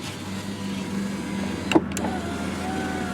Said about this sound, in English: It does have power windows, just in the front though.